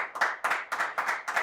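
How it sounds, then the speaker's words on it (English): A small studio crew claps in five quick regular bursts, close and dry, with no voices. "You guys crew can applaud if they want."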